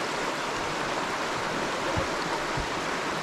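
Steady broadband rush of water flowing at Devil's Glen waterfall in a Wicklow forest, continuous and fairly loud, with a few low splashes and no voices.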